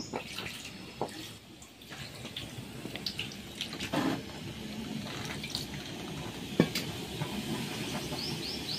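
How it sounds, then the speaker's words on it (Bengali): A peeled potato is rinsed under running water, a continuous splashing wash with occasional knocks and clatter, close by and without speech. "তো একটু ধুয়ে নিচ্ছি।"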